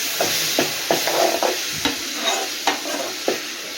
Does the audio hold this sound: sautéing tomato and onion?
yes